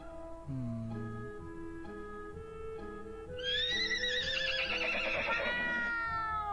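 A horse whinnies loudly in the puzzle game Dudley and the Mysterious Tower, its rising, wavering neigh following a short run of steady electronic tones.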